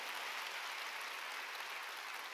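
A church congregation at a Wednesday worship service applauds to glorify God, heard as a distant, uniform hiss of many hands clapping, steady and unbroken across the short span.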